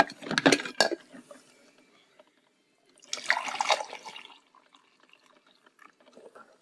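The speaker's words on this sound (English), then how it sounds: "so let's pour ourselves a cup" Hot coffee pours from a carafe into a cup in two splashy bursts, the first short and the second longer, close by, with quiet drips and handling noises between them.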